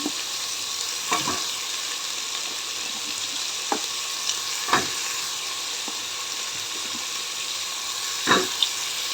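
Sliced radish for sambar is stirred in a pan, giving a steady close hiss with a few scattered scrapes and clinks of the spoon and no voices.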